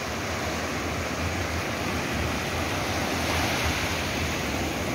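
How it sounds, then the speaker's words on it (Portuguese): Ocean waves washing onto the beach at Ilha Comprida, a steady broadband roar of surf close by, loud and continuous with wind noise, no talk. "molha o pezinho de vocês, ó. Com essas ondas maravilhosas"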